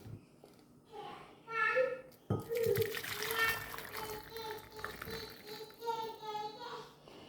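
Betel leaf rasam poured into a bowl lined with coriander leaves, a short run of liquid trickling and splashing close by, with someone talking over it.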